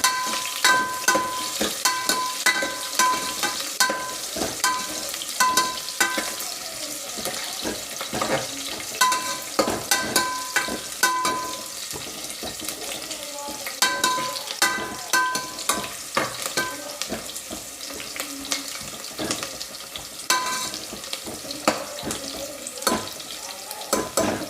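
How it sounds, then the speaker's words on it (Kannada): Onions frying in a pan and stirred with a spoon, with a steady sizzle and repeated scraping strokes that run close and loud throughout, and no one talking. "ಆನಿಯನ್ ಸ್ವಲ್ಪ ಬ್ರೌನ್ ಕಲರ್ ಬರೋವರೆಗೂ ಸ್ವಲ್ಪ ಫ್ರೈ ಆಗಬೇಕು ಗೈಸ್"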